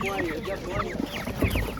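Broiler chickens for sale at a market give short, busy clucks from nearby, with overlapping calls over a murmur of background voices.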